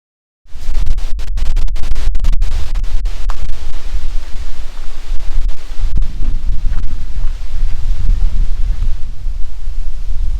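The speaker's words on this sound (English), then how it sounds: "the wind is really starting to pick up. And it's really chilly wind." Strong, chilly wind gusts on a fall day hike at Mille Lacs Kathio State Park, Minnesota, buffeting the microphone as a loud, continuous low rumble with scattered scrapes and no talk.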